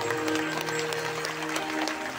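Devotees clap continuously during a Shiv Tandav aarti at a Vaishno temple, a dense, even patter of many hands with a faint murmur underneath.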